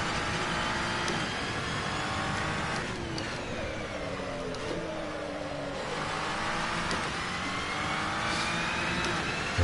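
A GT3 race car engine in the video game Assetto Corsa roars steadily at Imola, revving up and down in rising and falling sweeps with no pauses, loud and close throughout.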